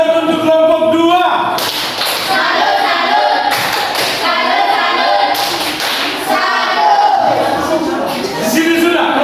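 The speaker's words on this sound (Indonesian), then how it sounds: "Tepuk salut untuk kelompok 2." A classroom of students doing a rhythmic 'tepuk salut' clapping cheer for group 2, with bursts of patterned claps and voices chanting along, loud and close, over a noisy room.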